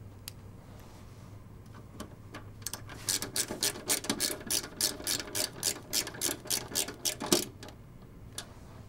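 A screwdriver drives a screw to secure a 3.5-inch drive sled in a drive cage during a PC build. A quick series of close, rhythmic ratcheting clicks builds in the middle and ends with a firmer click, with no talking.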